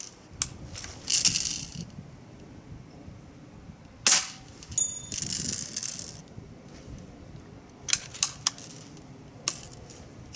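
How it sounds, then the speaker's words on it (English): Air gun pellets strike a green rubber spoon target in several sharp, loud cracks with slapping impacts, arriving in irregular bursts over a quiet background. "the green rubber spoon seems to react much better to pellets than it does to the BBs."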